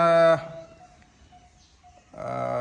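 Cattle at a farm where cows are being fattened for Qurbani, with a single loud, drawn-out moo at the start and another beginning near the end, separated by a quiet stretch of faint farm background.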